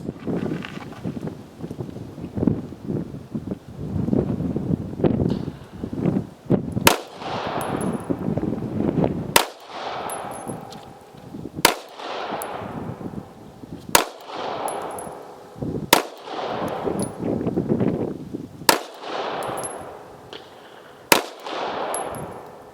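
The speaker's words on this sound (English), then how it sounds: "we are shooting at 7 yards" Canik budget full-size pistol firing at 7 yards on a range, eight sharp loud gunshots spaced a few seconds apart, each with a quick decaying echo over wind and background noise.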